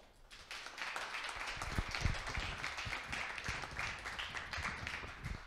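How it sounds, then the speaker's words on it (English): Audience applause after a faculty talk at a university symposium event, a steady wash of many hands clapping at moderate volume that holds evenly for several seconds with a few sharper individual claps standing out. "Big round of applause to them."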